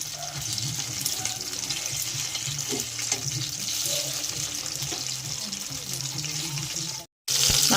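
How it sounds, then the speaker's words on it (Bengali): Marinated chicken pieces fry in hot oil for dry chilli chicken, giving a continuous bright sizzle and hiss at a moderate level. The sound runs steadily, then breaks off in a brief silence near the end before the sizzle resumes. "তেলটা গরম হয়েছে, আমি এবার একে একে মাংসগুলো ভেজে নেব।"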